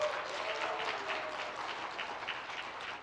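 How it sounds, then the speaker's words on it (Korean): A church congregation at an Easter service applauds after a baptism, with steady, moderately distant clapping filling the room throughout. "박수 부탁드리겠습니다."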